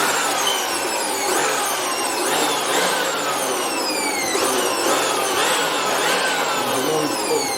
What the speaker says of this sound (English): Now let me get my blower. This is my blowing machine.